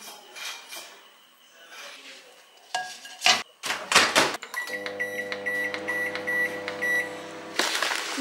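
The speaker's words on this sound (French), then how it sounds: "Je vais mettre au micro-ondes 3 minutes." A kitchen microwave oven is set for three minutes: a few clunks and door knocks, then beeps and a steady humming drone that runs for several seconds, close and fairly loud.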